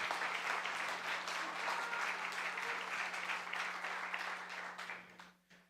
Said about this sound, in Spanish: Dale ese aplauso al Rey de Gloria